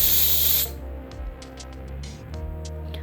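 Steam bursting loudly from a pressure cooker cooking Chettinad mutton kulambu on a gas stove, a strong hiss that cuts off abruptly, followed by faint ticking and clicking over a low kitchen hum.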